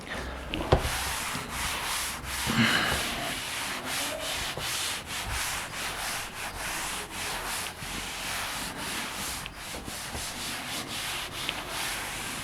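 A surface is rubbed steadily by hand with repeated short strokes, giving a continuous scratchy, sanding-like friction sound that stays close and fairly even throughout, with no voices.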